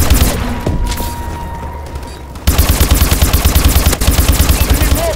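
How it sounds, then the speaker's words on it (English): Rapid, loud bursts of explosions and gunfire from missile strikes in a Call of Duty match on Xbox One, with a quieter stretch followed by a dense, rhythmic barrage of impacts. "Enemy missile strikes."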